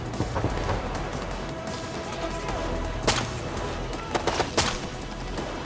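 Sharp gunshots crack out in Ghost Recon Future Soldier over a steady background rumble: a loud shot near the middle, then a quick cluster of several more toward the end.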